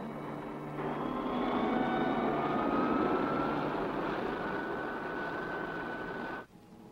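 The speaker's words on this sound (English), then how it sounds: "Turn on rocket motors." Steady, loud roar of rocket motors firing on a spaceship, building quickly then holding a sustained rushing drone with high whining tones before cutting off abruptly.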